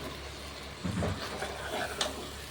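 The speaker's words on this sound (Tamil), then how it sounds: "எல்லாத்தையும் நல்லா மிக்ஸ் பண்ணுவோம் கொஞ்சம் ஃப்ளேம் ஏற்றிக்குவோம்" Prawn biryani mixture stirred and frying in a pan, a low sizzle under soft scraping and shuffling of a spoon, quiet and close, with no talk.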